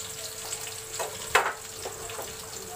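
Cumin seeds and onion frying in oil in a kadhai give a soft, close sizzle with a few brief crackles and one sharper pop midway.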